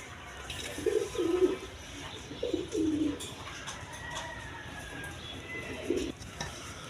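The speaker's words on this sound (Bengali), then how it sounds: "এখানে এক পেয়ার অরেঞ্জ চিলা কবুতর আছে" Pigeons coo repeatedly at a wholesale pigeon farm, including a pair of orange-feathered birds. Soft, low cooing phrases come in short bursts over a steady background of farm noise and chatter from other birds.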